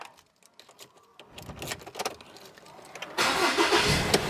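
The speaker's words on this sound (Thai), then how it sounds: "เดี๋ยวเราสตาร์ทรถให้ดูนะลูกค้า" Clicks and rattles come first, then a 2020 Ford Ranger XLT pickup truck engine cranks, catches and settles into a loud, steady rumble.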